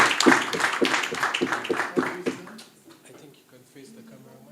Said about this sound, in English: Let's clap for Ali G Lip Balm, everyone.